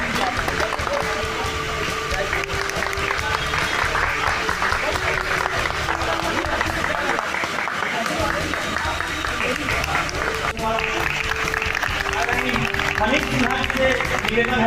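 Sustained applause from an audience at a temple cell seminar in Mehrauli district runs steadily for the whole stretch, loud and dense, with a voice talking over it.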